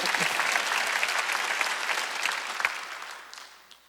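Worshippers at a church Wednesday service clap together in a burst of dense, lively applause that starts loud and gradually fades over a few seconds, with a few distinct claps near the end.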